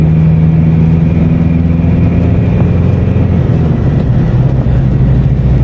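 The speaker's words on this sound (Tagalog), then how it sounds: "naka third gear ako Ayan. malakas naman yung makina eh" A 2024 Foton Traveller X 2.0 diesel van with manual gearbox climbs a hill in third gear, its engine drone loud, steady and close throughout, with no talk.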